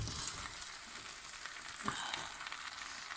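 Basmati rice being gently stirred in a pot for Sindhi lamb biryani, with a steady close sizzle, soft scraping movements and a few light clinks throughout.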